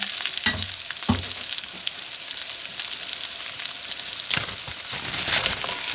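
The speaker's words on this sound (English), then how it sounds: "I'm going to cook my onions" Onions fry in a cast iron skillet with a steady bright sizzle, broken by a few scraping stirs and clatters near the pan.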